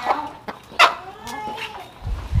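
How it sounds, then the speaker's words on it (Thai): Egg-laying hens at a backyard coop cluck in short scattered calls, close by, with a soft rustle and low thumps near the end. "ดูไก่กำลังจะออกไข"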